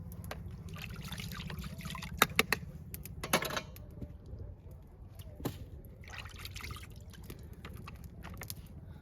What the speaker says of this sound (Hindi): थोड़े से बर्तन पड़े हुए थे चाय वाले, वो मैंने धो लिए।